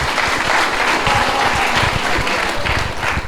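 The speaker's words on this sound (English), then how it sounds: "Give a round of applause." Sustained audience applause at an AI meetup award moment, dense steady clapping from a crowd filling the whole stretch at close, even loudness.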